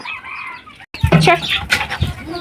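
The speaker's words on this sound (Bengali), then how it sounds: "আমার হাঁস মুরগি" Village farm poultry, chickens and Chinese ducks at feeding time at dusk, cluck and call in a busy, uneven stream, with some wing-flapping, while someone speaks briefly partway through.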